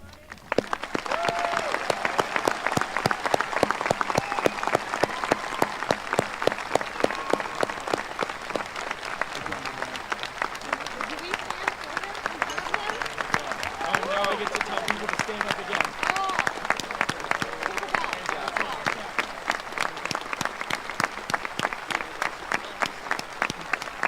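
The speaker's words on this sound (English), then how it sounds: "let's conclude this ceremony with a round of applause for Wyatt" A graduation audience at Abington Heights High School applauds for the class of 2024, a long, dense wash of clapping that rolls on steadily, with voices and a few shouts mixed in underneath.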